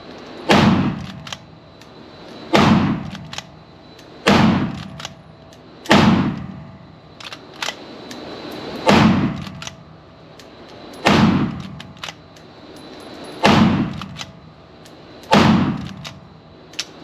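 A Henry Supreme lever action rifle fired unsuppressed with a 10-round magazine, giving eight loud, sharp reports at a steady pace roughly two seconds apart, each with a short decaying echo.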